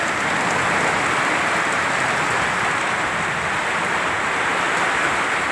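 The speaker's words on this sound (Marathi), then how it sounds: "एवढा मोठा पाऊस झाला चालू." A downpour of heavy rain hisses without a break, a broad and even wash of sound close by that never rises or falls. No one speaks.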